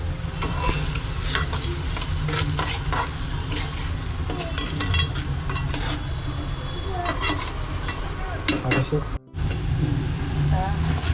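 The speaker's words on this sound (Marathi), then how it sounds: "झणझणीत फोडणी बसली आहे वास येता फोडणीचा" Vigorous sizzling and crackling of a spice tempering in hot oil, loud and continuous, with faint voices murmuring in the background and a brief dropout near the end.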